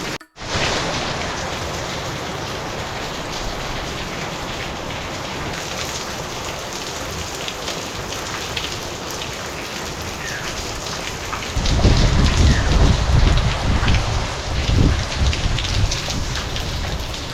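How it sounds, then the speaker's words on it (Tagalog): Heavy rain pours steadily and loudly, with thunder rumbling low beneath it; the downpour grows even heavier toward the end. "Grabe, lakas ng ulan."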